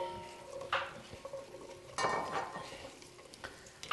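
Shallots, celery and carrots stir and fry in a pan, with scraping strokes and soft clatters over a steady low sizzle, two louder stirring bursts near the start and middle.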